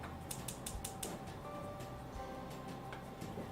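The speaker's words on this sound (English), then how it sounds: "So now we're just whisking" A whisk scrapes and clicks against a pan as pastry cream for a chocolate soufflé cooks over medium heat, making quick rhythmic metallic taps, then a steadier scraping, close and fairly loud.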